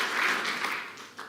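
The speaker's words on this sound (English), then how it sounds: "Good round of applause." A short burst of audience applause at a snooker match, dense steady clapping that tapers off quickly.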